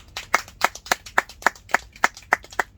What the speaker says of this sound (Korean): 요때 박수 한번 치면 안 됩니까?